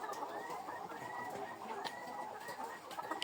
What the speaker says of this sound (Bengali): দেখেন মুরগিগুলো কি সুন্দর, মাত্র দুই একটা ডিম পাড়া শুরু করছে